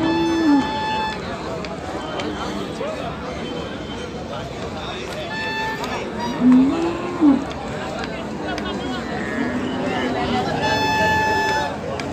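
A buffalo in labour lows in a few drawn-out moos at a farm, heard under steady talk and background noise.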